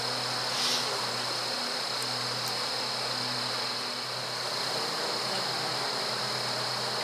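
Honey bees from a feral hive hum in a dense, steady drone as the hive is opened and frames are lifted, a constant close buzz with no break.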